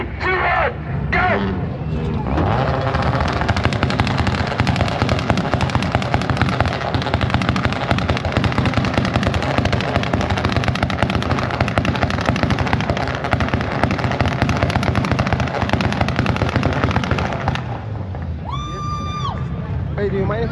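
An Audi A4 launches down a New England Dragway strip during an import drag event, a loud, harsh, continuous engine roar with popping bursts that runs for about seventeen seconds before cutting off abruptly, with crowd noise around it.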